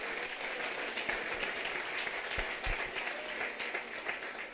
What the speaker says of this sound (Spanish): aplauso